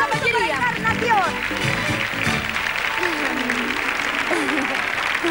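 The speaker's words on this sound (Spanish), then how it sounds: "un fuerte aplauso para la Encarnación" Studio audience applauding during a Spanish TV sketch, with steady clapping filling the whole stretch at moderate volume while voices talk and call out over it.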